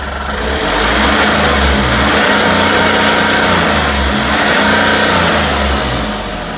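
An Ashok Leyland Bada Dost box truck's engine runs steadily close by, a continuous loud mid-pitched drone with a low rumble, slight revving swells and no talk over it.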